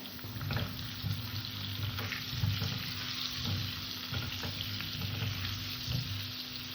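Potato pieces fry in a pan with turmeric, a quiet steady sizzle under a low hum, broken by soft stirring scrapes at fairly regular intervals.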